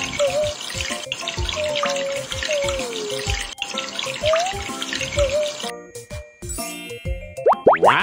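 Running shower water in a puppy care video game hisses steadily for several seconds, with bright plopping, bubbly effects and cheerful chiming tones over it, before switching to a short springy jingle.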